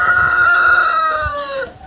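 A large white rooster crows close by, one long, loud drawn-out call that trails off at the end.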